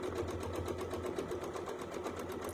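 A sewing machine stitches a free-motion quilting pattern with a fast, even, mechanical whirr of the needle. The sound is steady and fairly quiet, close by, and heard on its own.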